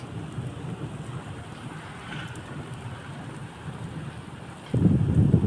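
Heavy rain pours down during a storm in Saudi Arabia: a steady, dense hiss of downpour that swells suddenly louder near the end, with no voices.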